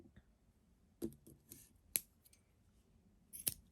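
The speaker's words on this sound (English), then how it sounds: "And then I'll cut my yarn." Scissors snip through crochet yarn at the end of a project, three to four crisp separate cuts close by in a quiet room.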